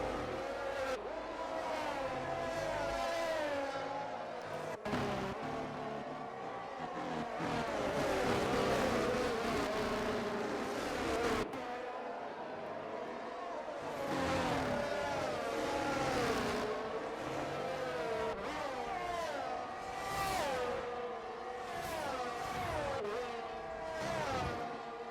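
Race cars in the F1 23 video game at a league race in Belgium whine with high engine pitches that rise and fall as cars pass and shift, continuous throughout.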